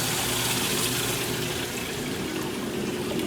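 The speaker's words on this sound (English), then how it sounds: "pour it in just to rinse that out." Water pours from a cup to rinse out a fixture during RV unwinterizing, giving a steady, fairly loud splashing rush throughout with no voices.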